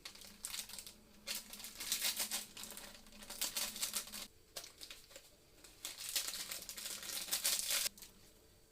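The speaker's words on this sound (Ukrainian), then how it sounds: "Сиплю два пакетики приправи." Crinkly packets rustle and grains patter out in two bursts, a short pause between them, close up and fairly quiet.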